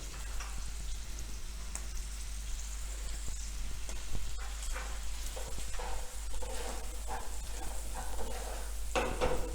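Asafoetida dropped into hot oil for a fresh turmeric vegetable dish, giving a steady close sizzle with scraping stirs and crackling spatters throughout, no voices.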